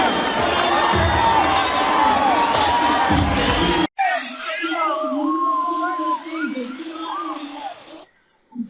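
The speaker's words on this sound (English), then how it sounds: "Hearing some cheers and boos, it's kind of mixed as he makes his way towards the ring." Boxing arena crowd at the Holyfield vs Moorer II fight reacts with loud mixed cheers, whoops and boos as the fighter walks to the ring, a dense roar that cuts abruptly to a thinner, more distant crowd din.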